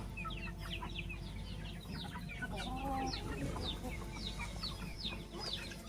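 Hens cluck busily nearby, a dense chatter of short clucks and chirps from several birds, with a drawn-out call in the middle.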